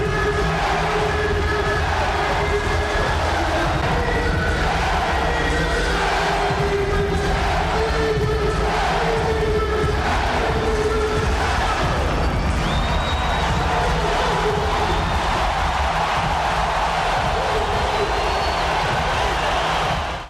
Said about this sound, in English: That crowd was wildin'.